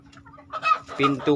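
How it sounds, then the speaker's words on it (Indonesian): Young hens clucking nearby in a coop, several short, uneven clucks and squawks growing louder over a quiet moment. "Jadi di sini akan ada 2 calon kelompok indukan, 10 babon muda."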